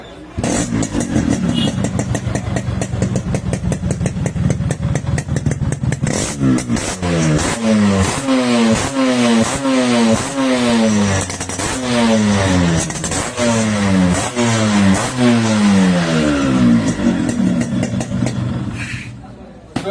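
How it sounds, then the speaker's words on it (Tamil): A Yamaha RX100 motorcycle engine idles with a loud, throbbing beat, then revs repeatedly in rising and falling bursts, close and powerful. "இந்த வண்டியோட இன்ஜின் பீட் சவுண்ட் கேட்டிருப்பீங்க"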